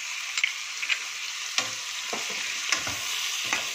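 Chicken and onions fry in a pan with a steady close sizzling hiss, punctuated by a few light clicks and scrapes of stirring, with no voices.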